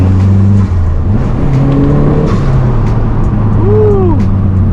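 A stage 2 Mazdaspeed 3 turbo engine pulls hard under acceleration from inside the car, its loud engine note rising and swelling through the gears with turbo whistle.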